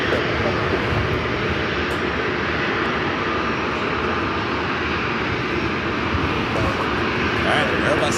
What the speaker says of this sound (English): Airbus A220-300 rolling down at 19er